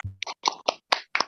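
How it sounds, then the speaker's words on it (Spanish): A congregation claps in a short burst at a Guarani-language meeting, with five or six separate, fairly crisp hand claps spaced unevenly over about a second, fairly quiet and with no talking. "queremos demostrar el agradecimiento con este aplauso"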